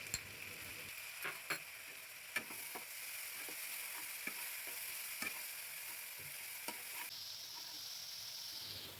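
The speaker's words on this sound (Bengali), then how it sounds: "রসুনটা ভালো করে ভেজে নিচ্ছি যতক্ষণ না রসুনের কাঁচা গন্ধটা যায়।" Garlic and onion paste frying for a chicken dish makes a soft, steady sizzle, punctuated by regular taps and scrapes from a stirring spatula, with no voices.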